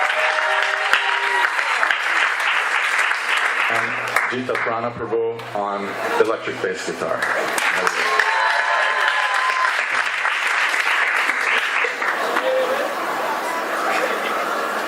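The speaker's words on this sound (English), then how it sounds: "Please give him a round of applause" Audience applause at a kirtan gathering for the musicians, sustained and loud throughout, with a stretch of plucked electric bass tones in the middle and a voice announcing over the clapping.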